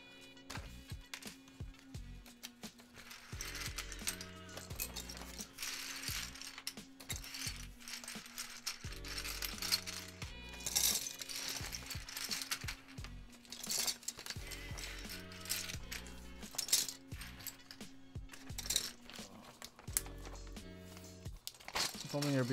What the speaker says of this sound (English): Put these keycaps away real quick.